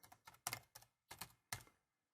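Keys tapped on a computer keyboard: about six quick, crisp clicks in an uneven rhythm, close and quiet, then silence.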